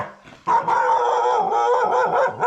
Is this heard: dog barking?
yes